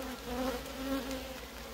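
Honey bees buzzing on a hive frame during a nucleus transfer, a steady close hum of many insects with no voices.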